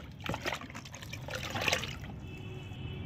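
Liquid fertilizer being mixed into plain water sloshes and trickles in a container, with splashy bursts and dribbling, fairly quiet and close, with no talking.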